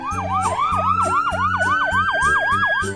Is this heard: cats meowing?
no